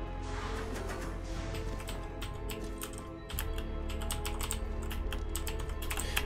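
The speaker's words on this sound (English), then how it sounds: "let me try to play with the keyboard" Keys on a computer keyboard are pressed in quick, uneven bursts of close clicks and taps, with a faint steady hum underneath and no talking.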